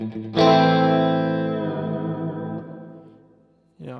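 An electric guitar through an EHX Epitome pedal on its hall reverb setting: a single strummed chord rings out and fades slowly over a long, smooth tail, then another chord strikes at the very end.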